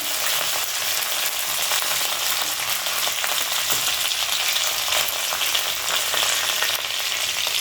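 Curry leaves and dried red chillies sizzling in hot oil, a loud, steady, close crackling hiss that holds unbroken throughout, with no talking.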